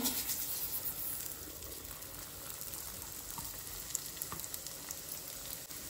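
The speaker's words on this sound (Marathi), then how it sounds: "तूप आमचें हांगासर गरम जाल्लें आसा. आतां न्ही हांव हितून घालता रवो." Coarse semolina (rava) hits hot ghee in a pan for a Goan veg thali, giving a steady, loud, close sizzle and frying hiss that runs the whole time with no voices.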